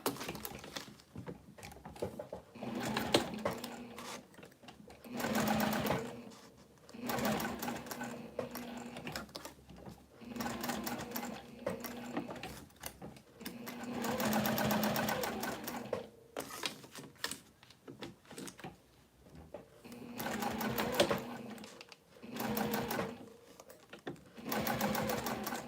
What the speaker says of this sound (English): I'm using a Juki TL2010q machine. I'm using a size 16 Schmetz needle